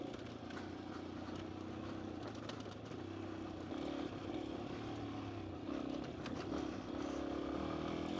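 Yamaha XT250 dual-sport motorcycle ridden off-road, its steady engine drone running continuously and fairly close, with faint clatter from the rough ground underneath.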